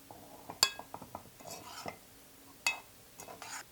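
A utensil mixes steamed rice flakes in a metal vessel, producing soft scraping and scattered light clinks. A few sharper knocks stand out, and the sound stays quiet throughout.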